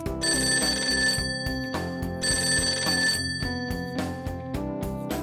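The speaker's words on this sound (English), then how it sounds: "The phone." A telephone rings in a Persona 5 Tactica game cutscene, a loud repeating electronic trill in short bursts over a continuous musical background.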